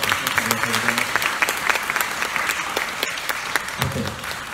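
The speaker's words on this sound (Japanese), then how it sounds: "もう一度今日の出演者に大きな拍手をお願いします" Sustained audience applause for stage performers at the close of a Shimakutuba (Okinawan language) theatre program, steady dense clapping filling the room for several seconds without pause.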